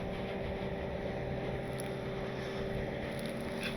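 A stuck van's engine drones steadily under throttle as it works to drive free, a constant low rumble with wind-like noise over it and no voices.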